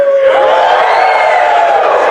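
A live audience in a room cheers loudly and continuously, a dense wall of shouts and whoops sustained at full volume throughout.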